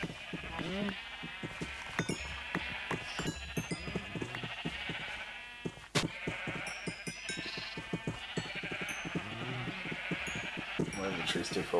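Repeated bleating from a flock on a Minecraft sheep farm, steady overlapping bleats at moderate level with someone talking over them for most of the stretch.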